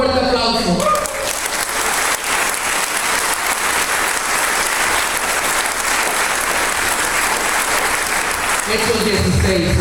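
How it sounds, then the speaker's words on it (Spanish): A church congregation breaks into loud sustained applause during a Spanish-language sermon, a thick continuous roar of clapping with voices audible briefly at the start and end. "Dale un fuerte aplauso"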